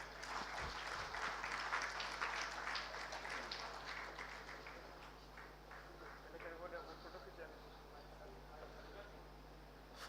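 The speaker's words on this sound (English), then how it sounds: "I request all of you to please put a big round of applause for our chairman, sir." A conference audience at an exhibitors' session applauds the session chairman, a dense burst of clapping that fades over several seconds into scattered claps and room murmur.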